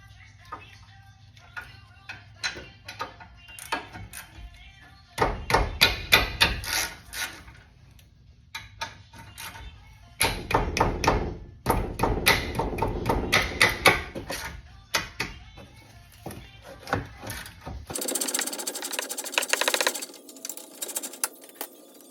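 A 17 mm wrench ratchets a bolt off the front lower ball joint of an Acura RSX Type S, bursts of rapid close clicking alternating with quieter pauses, followed by a steadier louder stretch of spinning.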